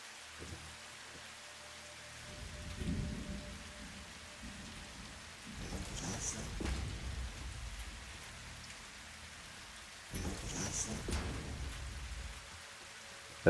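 Steady rain falls in the Satisfactory video game, a constant soft hiss with swelling gusts and low rumbles, heard alone and fairly close throughout.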